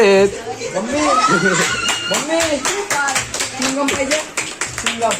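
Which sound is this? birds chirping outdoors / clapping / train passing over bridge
clapping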